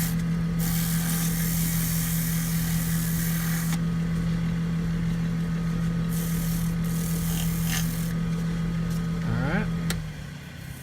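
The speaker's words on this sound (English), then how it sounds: "Lay a little sandpaper on it real quick." Sandpaper rubbing against a recycled plastic handle spinning on a lathe, a steady close rasp over a constant motor hum for about ten seconds before the machine winds down at the end.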